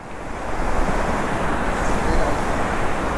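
Steady, dense roar of rushing water from a monsoon-fed waterfall at Ekayam Waterfalls in Idukki, loud and continuous throughout with no break.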